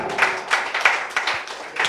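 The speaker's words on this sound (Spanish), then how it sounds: "Dale un aplauso al Señor, hermano." A church congregation claps in a slow, even rhythm during a worship service, about seven distinct claps spaced regularly, with no voices over them.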